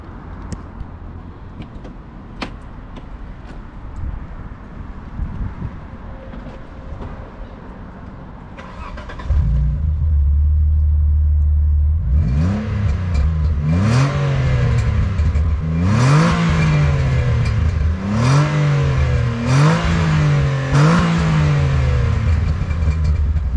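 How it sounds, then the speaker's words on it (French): Quiet handling noises give way to the starter and then an Alfa Romeo Spider 916 with a 3.0 24-valve V6 catching and idling loudly nearby, followed by a series of rhythmic throttle blips rising and falling repeatedly. "on entend encore le vrai bruit du V6 italien et ça flatte plutôt l'oreille"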